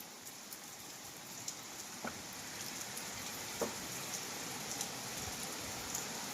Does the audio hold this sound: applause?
no